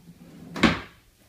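A kitchen trash drawer slides open with a single soft thump and rumble in a quiet apartment kitchen.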